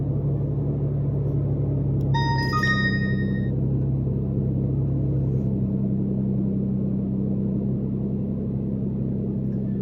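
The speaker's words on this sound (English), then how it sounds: "I just started the car up, and it's rebooting itself." A car engine idling steadily just after start-up, a loud continuous low rumble heard from inside the cabin, with a brief chime of electronic beeps from a dashcam early on.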